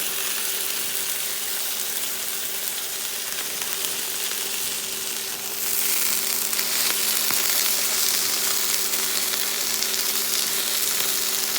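British rump steaks sear in a hot pan with a steady, close sizzle and a constant hiss that grows slightly louder and brighter midway, with no voices over it.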